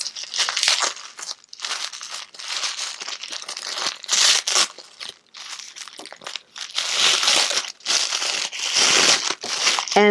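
A wrapped advent calendar gift is opened up close, with loud, continuous crinkling and crumpling of paper and brief tearing bursts that stop and start over about ten seconds.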